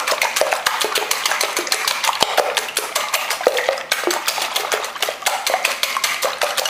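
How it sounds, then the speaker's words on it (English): Four eggs are beaten in a bowl with a fork or whisk, a rapid, steady run of sharp clicking strokes against the bowl, close and loud, with only a brief pause partway through and no talking. "Then I am going to basically beat these 4 eggs"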